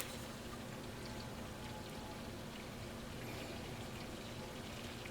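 Melted butter simmers and bubbles in a pan while being browned for a caramel dessert, giving a steady, close crackling fizz with dense tiny pops and no talk.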